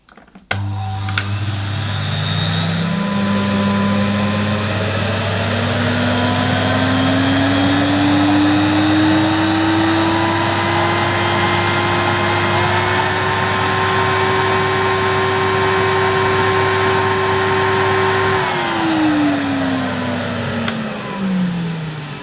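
Electrolux 2020 Super Boost vacuum cleaner running with a sealed suction gauge on the hose end: a loud close motor whine that spins up, climbs steadily in pitch as suction builds, holds, then winds down at the end.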